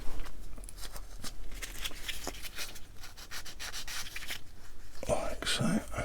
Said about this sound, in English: So get some of them sanded.